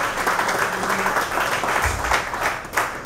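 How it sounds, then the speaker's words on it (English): Audience applause fills a room at a restaurant and lounge venue launch event, a steady wash of clapping held at an even level for about three seconds, with a faint hum underneath. "Give them a big round of applause."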